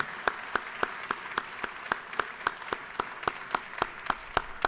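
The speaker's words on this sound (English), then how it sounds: "If everyone would give her a round of applause, please." Applause in a state House legislative chamber, heard as a steady, evenly spaced rhythm of single sharp claps, about three per second, loud and close.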